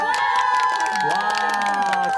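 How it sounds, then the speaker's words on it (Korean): Crowd of fans at a live outdoor radio broadcast in Yeouido, Seoul, cheering with shrill shouts and whoops, dense and sustained, with little sign of clapping. "여러분들 함성 대신 박수 쳐!"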